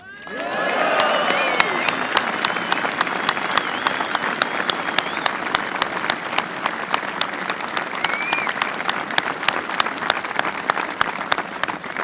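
Crowd at a graveside funeral oration applauds, a broad wash of clapping that swells in within the first second and holds steady, with a few sharp individual claps standing out near the listener.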